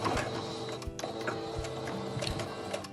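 A sewing machine runs steadily along the edge of a pleated fabric face mask, its needle mechanism giving a fast, close mechanical rattle and ticking with no speech.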